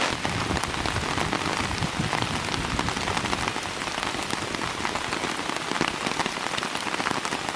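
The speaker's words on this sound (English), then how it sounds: "Wasn't calling for rain and thunder and lightning" Heavy rain during an unexpected thunderstorm on the North Country Trail in Wisconsin, a loud, constant hiss of drops pattering on surfaces nearby, with no voices.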